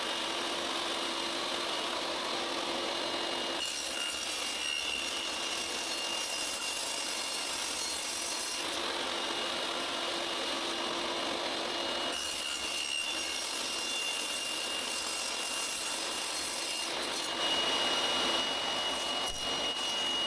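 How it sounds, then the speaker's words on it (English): A saw cuts Purple Heart wood into 3 cm wide strips, a steady loud machine whine with grinding wood noise in long passes separated by brief shifts in tone. "These were cut into 3 centimeters wide strips."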